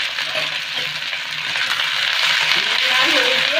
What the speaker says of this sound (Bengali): একটু নুন আর হলুদ দিয়ে কুঁদরিগুলোকে ভেজে নেব।